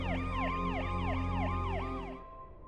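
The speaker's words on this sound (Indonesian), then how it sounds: "suara merdu dari sirine polisi mulai terdengar" A police siren wails in a rapid repeating up-and-down cycle, loud and close, before cutting off near the end.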